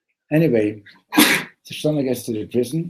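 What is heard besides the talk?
sneeze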